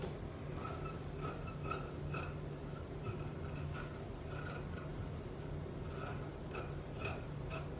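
Scissors snip through blouse fabric around a neckline in repeated, steady rasping cuts, close and fairly quiet over a low hum, with no talking.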